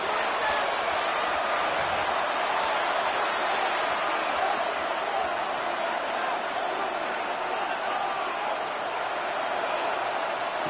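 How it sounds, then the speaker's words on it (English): Home crowd at a basketball game holding a steady, loud roar that swells and stays dense throughout, with no clear breaks. "Here comes the crowd swell"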